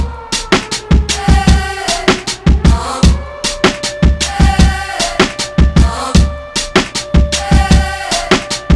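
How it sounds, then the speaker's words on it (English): A chopped drum break sampled from one song and reworked for another plays loud and punchy, with a steady run of sharp kick and snare hits over sustained tonal music throughout. "We're taking that drum break and we're chopping it up."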